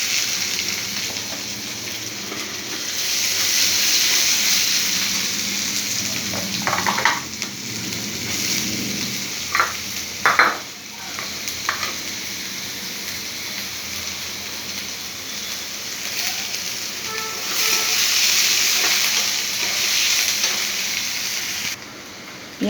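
Onions fry in white oil, giving a steady, close hiss of sizzling that swells and fades, with a few sharp clatters of stirring partway through and no voices.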